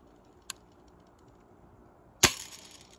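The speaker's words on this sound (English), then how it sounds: "Next up, we have a Daisy BB gun" A Daisy BB gun fires with a sharp, snappy crack followed by a brief ringing decay, preceded by a faint click, heard close and alone in a quiet setting.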